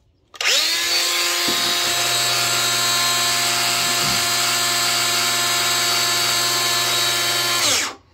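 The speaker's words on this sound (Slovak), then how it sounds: "uhlovú brúsku na vlastné riziko pustím len tak na prázdno na pracovnom stole" A Bosch GWX 18V-10 SC 1000W cordless angle grinder spins up and runs idle on a workbench, a loud steady high-pitched whine held for about seven seconds before winding down.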